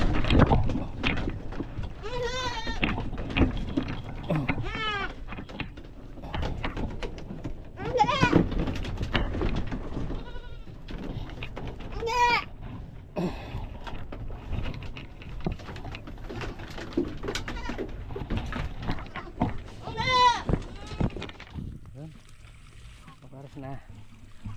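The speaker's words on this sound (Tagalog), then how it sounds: "naisilong na natin mga kambing" Goats bleat repeatedly on a Filipino farm, a series of close, wavering calls spread through the clip over a steady background rumble, with people talking nearby.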